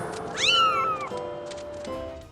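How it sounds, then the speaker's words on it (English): Kittens in a flowery field in The Legend of Zelda: Skyward Sword give a clear rising mew, then fainter softer mews, over a steady background hum of game ambience. "visiting the flowery field full of the cute kittens who mew and follow Link around"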